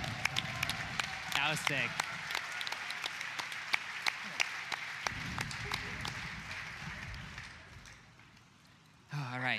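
A crowd at a Games Done Quick 2018 speedrunning charity event claps and cheers in a sustained burst of applause, with a voice speaking over it before the clapping fades out.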